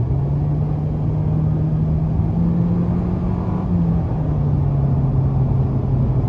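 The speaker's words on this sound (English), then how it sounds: "when you put your foot down, it can get a tad loud" A 2023 Nissan Kicks SV with its 1.6-litre engine droning steadily under full throttle from inside the cabin, a loud constant hum with a slowly shifting engine tone and no speech.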